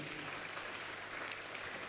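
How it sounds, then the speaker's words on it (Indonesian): A church congregation applauds steadily, a dense wash of clapping that stays even and fairly distant throughout. "Tepuk tangan yang meriah."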